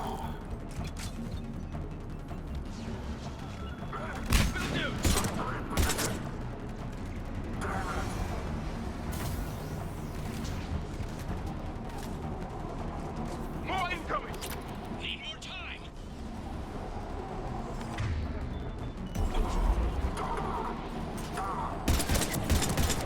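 Combat gunfire in the video game Mass Effect 3: sustained bursts of rifle and automatic fire with sharp louder volleys, mechanical clanks and creaks, mixed under urgent shouted dialogue between characters.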